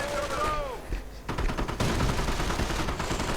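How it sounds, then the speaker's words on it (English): Rifle and machine gun fire rattles from a World War II real-time strategy game as Panzergrenadiers fire, dense bursts of gunshots following a short whistling tone, with game sounds layered beneath. "as Panzergrenadiers fire away at them as well. Quite a lot of fire and explosions."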